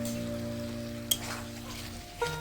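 Chopped tomato hitting hot oil alongside frying pond-fresh puti fish gives a steady, moderate sizzle with a faint electrical hum underneath and two brief clicks.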